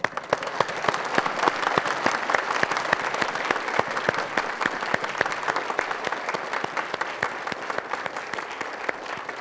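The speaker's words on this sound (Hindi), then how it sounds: "बहुत बढ़िया, आपके लिए तालियां।" An audience claps steadily after a sung devotional verse at a spiritual talk, dense continuous applause holding at an even level throughout with no speech over it.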